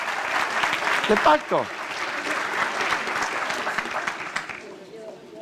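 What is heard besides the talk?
church congregation applause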